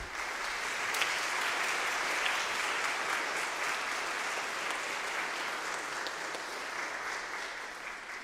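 A chamber concert audience applauds in a dense, steady wash of many hands clapping, sustained at an even level from start to finish with no voices on top.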